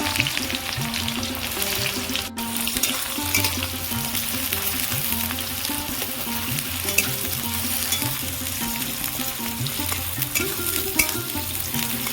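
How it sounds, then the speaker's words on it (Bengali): Sliced onions fry in hot oil for egg biryani, cooked down until crisp and browned, giving a loud, steady, close sizzle with stirring throughout. "তেল গরম হয়ে গেছে পেঁয়াজ দেবো পেঁয়াজগুলো আমি বেরেস্তা করে নেব"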